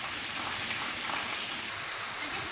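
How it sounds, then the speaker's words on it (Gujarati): Heavy night rain in Sabarkantha pours in a dense, unbroken hiss, steady and close, with no distinct thunderclap standing out. "વીજળીના કડાકા ભડાકા સાથે ભારે વરસાદ પડી રહ્યો છે।"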